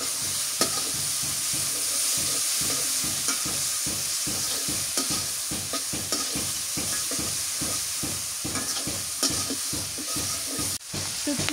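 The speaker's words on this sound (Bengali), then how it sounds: "শুটকি কষানো হয়ে গেছে," Dried fish (shutki) sautéing in a pan with onion paste, green chillies and coriander, a steady sizzle broken by a rapid, regular scraping of a spoon stirring close up, with no voices.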